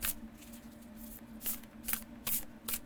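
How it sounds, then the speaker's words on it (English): Alice the Wonderland Oracle cards shuffled by hand, a run of crisp riffling bursts at irregular intervals over a faint steady hum, close and moderately loud. "you can also shuffle it this way as well"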